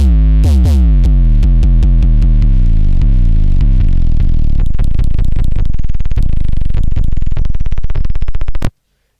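Low 808 bass from the intro of an FL Studio beat, a loud, distorted, booming tone gliding down across several octaves, its pitch dropping and stuttering in quick repeats before stopping abruptly.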